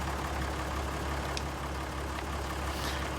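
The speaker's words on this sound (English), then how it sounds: "Leave the engine running." A tractor engine idles in Farming Simulator 19, a low, steady mechanical rumble that stays constant and fairly quiet throughout, with no voices.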